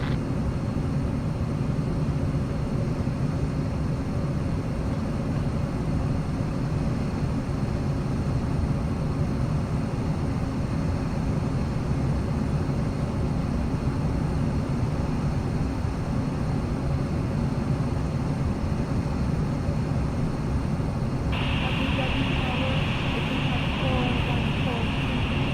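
An airliner's engines roar steadily in a VR flight simulator during takeoff, a dense continuous rumble with a higher tone joining near the end, under radio voices.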